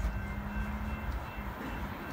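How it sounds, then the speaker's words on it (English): A Metra express commuter train runs through the Riverside, Illinois station without stopping, giving a steady low rumble and rail roar with a faint tonal whine. It holds at a constant, fairly close level for the whole stretch. "The next Metra train approaching your station will be a Metra Express train and"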